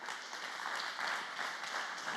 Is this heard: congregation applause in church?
yes